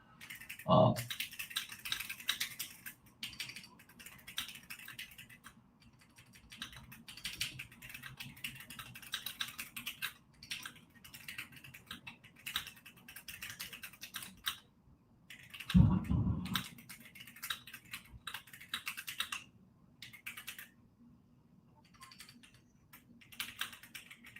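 Typing on a computer keyboard, a steady patter of key clicks that runs through most of the stretch with pauses, with a few louder thumps and someone talking quietly over it.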